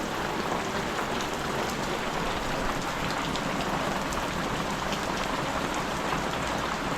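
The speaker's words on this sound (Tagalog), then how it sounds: "maghapon na pong ulan" Steady rain falls hard and unbroken during a typhoon, a dense even hiss of drops on surfaces that stays constant throughout with no voices.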